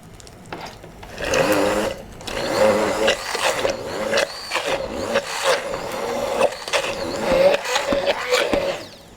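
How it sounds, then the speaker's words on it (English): A motorized mixer whirs steadily as it blends mayonnaise made with extra virgin olive oil, a close, continuous buzzing drone that pulses and rises in short bursts. "let's mix the mayonnaise"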